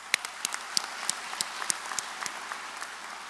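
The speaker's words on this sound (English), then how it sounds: "Give yourselves a round of applause" Scattered, sparse clapping from a graduation audience at a high school ceremony, a few distinct sharp claps spread irregularly across the moment, fairly faint and thin rather than a full ovation.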